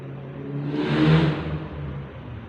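A car engine revs on a road about a block away, with a broad, moderately loud whoosh that swells to a peak and then fades as the vehicle passes, heard alone with no voices.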